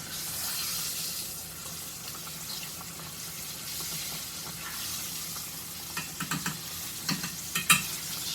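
Pork loin chops frying in a pan for sandwiches, giving a steady, dense sizzle close by, with a few louder spits and crackles and small clatters near the end and no talking.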